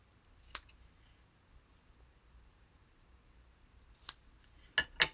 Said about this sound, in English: So we're going to go ahead and cut that.